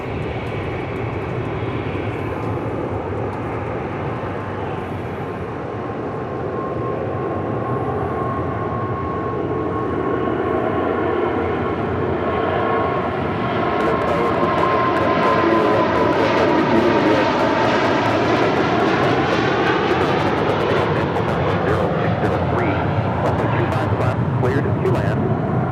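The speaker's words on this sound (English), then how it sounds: "That was Nippon Cargo Airlines" Nippon Cargo Airlines flight 101, a cargo jet taking off at LAX, its engines roaring loud and sustained, swelling in the middle with a shifting whine as it passes, while a voice talks over it.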